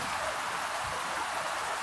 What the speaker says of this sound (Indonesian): Neng gimana tuh hujan Neng?